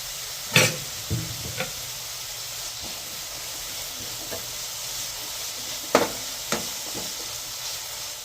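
Vegetables frying in a pan for a vegetable omelette give off a steady, soft sizzle and hiss, broken by a few sharp clicks and scrapes from stirring.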